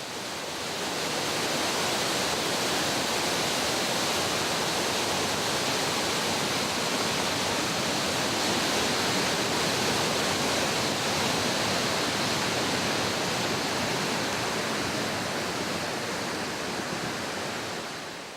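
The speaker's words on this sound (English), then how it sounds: "hike up to Profile Falls. It's only about a quarter of a mile, and the falls is spectacular." Profile Falls on the Smith River in New Hampshire pours in a steady, dense broadband roar, loud and unbroken from start to finish, with no voices.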